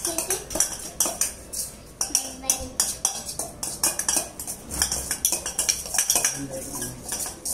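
Bhelpuri ingredients mixed with a spoon in a bowl, a busy run of rapid metallic clinks and scrapes repeating in quick irregular rhythm, close and fairly loud throughout.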